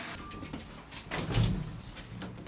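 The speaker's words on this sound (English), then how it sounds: "Doors opening. Lift going up." A lift's doors slide open and the car starts rising, a soft mechanical rumble and whir with a low hum that swells then settles, heard close inside the lift with no talking.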